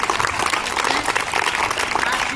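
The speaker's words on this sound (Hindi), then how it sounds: "जोरदार तालियां" A crowd applauds steadily, a dense wash of clapping hands filling the moment, with a few voices mixed into the noise.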